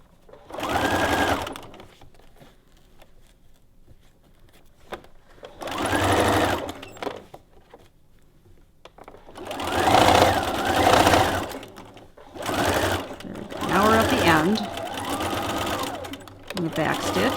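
A sewing machine back-stitches through ruffle fabric on a skirt, running in several distinct bursts of rapid mechanical whirring separated by quiet pauses, with a voice speaking over some of the runs.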